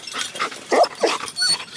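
Excited dogs bark and whimper up close in short, eager bursts, loud yips and whines overlapping with bits of background noise.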